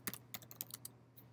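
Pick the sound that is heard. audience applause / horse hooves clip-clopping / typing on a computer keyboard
typing on a computer keyboard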